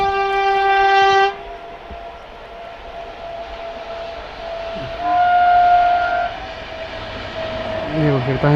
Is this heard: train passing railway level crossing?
yes